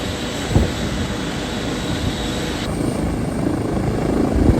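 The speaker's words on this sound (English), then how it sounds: "the rotor blades are going really slow, but I can assure you they're not" Steady whooshing thrum of helicopter rotor blades, loud and continuous, with a broad rushing noise and a brief thump near the start.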